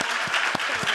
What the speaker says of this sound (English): So, another round of applause for our bid mothers.